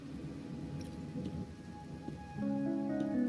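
Rain falls in the video game Wuthering Waves on a rainy night, a soft, even patter that grows louder and fuller near the end as a low tonal hum rises beneath it.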